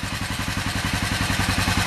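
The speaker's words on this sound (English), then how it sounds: "It's actually running pretty decent. Carbs are holding, they're not leaking or nothing, so it's idling pretty good" A 1996 Kawasaki Vulcan 500 motorcycle engine idling steadily after carburetor work, with a rapid, even low thumping pulse and light mechanical clatter, close and fairly loud.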